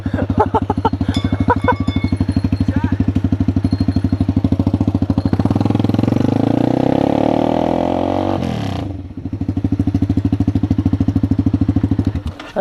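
A custom-exhaust motorcycle idles close by with a loud, rapid, even putter. The engine briefly rises in pitch and dips to near silence, then settles back into its steady idle.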